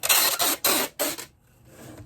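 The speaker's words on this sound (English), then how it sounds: "Sorry about the tape noise." Packing tape rips off the roll in four quick, loud bursts, followed by a quiet stretch of faint rustling.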